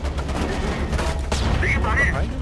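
Gunfire in the shooter Homefront: The Revolution, with a steady stream of loud, crackling shots and battle noise throughout, a sharp louder report partway through and brief wavering tones near the end.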